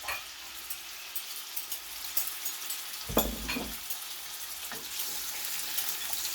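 Shrimp frying in hot oil in a pan for shrimp fried rice, a steady quiet crackling sizzle with a brief louder burst of spattering midway, no talk.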